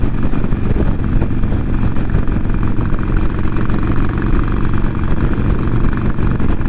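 A 2020 Harley-Davidson Iron 1200 Sportster motorcycle on a ride, its engine a steady, loud low rumble throughout with constant wind and road noise and no talking.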